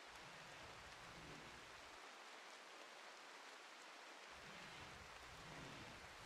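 Steady, dense hiss of heavy rain in the colony-building video game RimWorld, loud and continuous with no talk, the low rumble underneath briefly dropping out midway.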